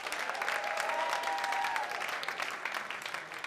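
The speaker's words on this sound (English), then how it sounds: "Round of applause if you're in your 30s." Applause from a comedy club crowd: dense, even clapping that holds steady, then thins slightly toward the end, with a faint voice briefly audible underneath.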